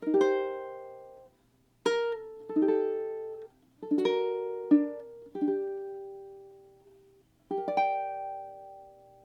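Ukulele chords from the last line of a song strummed one at a time, each left to ring and fade before the next, with a final chord sustaining; no voices.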